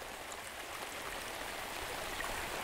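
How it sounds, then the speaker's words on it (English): Creek floodwater rushes quickly across a road during historic flooding, a steady broadband wash of flowing water heard at a moderate distance with no voices over it. "Can you hear how fast it's flowing?"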